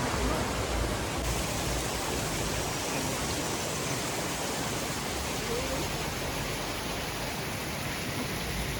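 A waterfall pouring straight down off a mountainside near Dehradun, a dense, unbroken roar of falling water heard close and loud, steady from start to finish.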